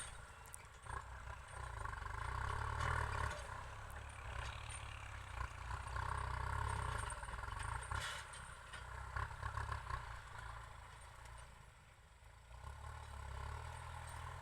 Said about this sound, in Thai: มาฟังเสียงรถน้ำกันเนาะ เพราะมีอยู่2 คันตอนนี้